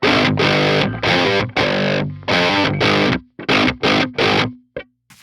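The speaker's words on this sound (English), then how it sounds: "I'm gonna roll up the presence just to see if I can make the amp sound brighter." Heavily distorted electric guitar through an amp, a run of loud chugging chords in bursts with short gaps, ending in quick choppy stabs.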